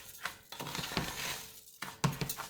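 Spoon scraping and stirring Spanish rice in a pan, a close run of soft scrapes and light clinks with brief pauses, no voices.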